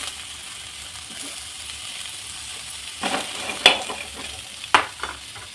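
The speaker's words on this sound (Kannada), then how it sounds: "ಒಂದಿಡಿ ಕೊತ್ತಂಬರಿ ಸೊಪ್ಪು, ಒಂದಿಡಿ ಪುದೀನ ಸೊಪ್ಪು, ಚಕ್ಕೆ, ಲವಂಗ, ಗಸಗಸೆ, ಏಲಕ್ಕಿ ಇಷ್ಟನ್ನು ಹಾಕ್ಕೊಂಡು ಸ್ವಲ್ಪ ಹೊತ್ತು ಫ್ರೈ ಮಾಡ್ಕೊಳ್ಳೋಣ" Coriander leaves, mint and whole spices such as cinnamon, cloves, poppy seeds and cardamom frying in a pan for vegetable palav, a soft steady sizzle broken by a couple of sharp stirring scrapes, close, with no talking.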